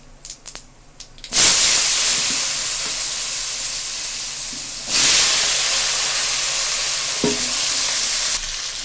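Potatoes drop into hot oil left from frying katla fish, bursting into a loud sizzling hiss that fades slightly and then surges again with a second addition, steady frying noise throughout.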